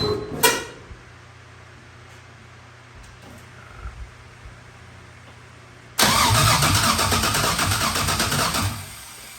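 A 1988 Chevrolet C30 truck with a swapped LS engine cranks loudly and steadily for a few seconds after a quiet stretch with a couple of small clicks, then cuts off without starting.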